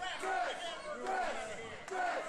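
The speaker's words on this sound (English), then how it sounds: "Listen to the crowd. They are chanting for the dress, Disco." A wrestling crowd at a steel cage match chants in rising waves of massed voices, loud and continuous, with a commentator talking over it.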